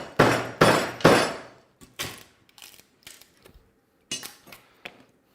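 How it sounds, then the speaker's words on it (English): Wood being broken apart along shallow saw kerf lines for a mailbox post gives three loud cracking snaps in quick succession, then scattered softer knocks and splintering clicks. "So you can pretty easily just break it along your kerf lines there"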